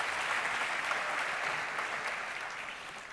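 Audience at a Make-A-Wish Michigan awards ceremony clapping, a dense, steady burst of applause from many hands that slowly tapers off.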